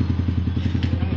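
Yamaha R15 V3 motorcycle with an aftermarket exhaust, idling in a loud, steady throb with regular pulsing beats, recorded close up with no talk over it.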